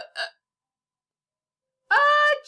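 A voice imitates hiccups while reading a Halloween ghost story aloud: one short breathy hic, a pause, then a longer, loud, squeaky hiccup sound up close.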